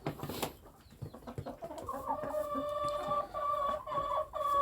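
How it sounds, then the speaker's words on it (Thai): Several young village chickens cluck and murmur close by, with rising calls overlapping into a busy, continuous chorus of farmyard fowl. "อันนี้คือไก่รุ่นนะครับ"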